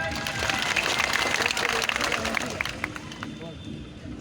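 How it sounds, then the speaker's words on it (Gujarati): An audience at a Gujarati storytelling event applauds community workers. The clapping is dense and fairly loud, then fades over a few seconds with some voices mixed in. "એવા હજારો કાર્યકર્તાઓ માટે એકવાર જોરદાર તાળીઓ થઈ જાય"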